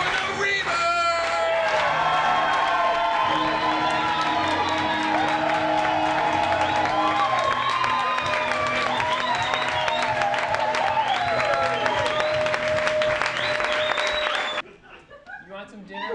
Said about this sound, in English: Let's get a slow clap going for the Reaver!